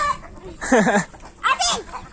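Free-range chickens on a blue-egg farm give two loud, close squawking clucks about a second apart, with a person speaking around them.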